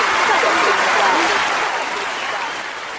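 Thunderous applause from a seated audience welcomes a senior satirist onto the stage at a satire programme, dense and steady clapping throughout, easing slightly toward the end.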